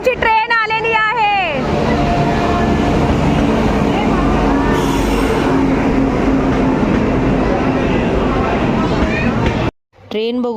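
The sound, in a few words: train arriving at station, Katra-bound train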